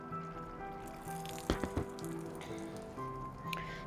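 Water poured through a potted phalaenopsis orchid sitting in LECA clay pebbles, a faint patter and trickle like rain on a surface, with a couple of louder splashes and drips partway through.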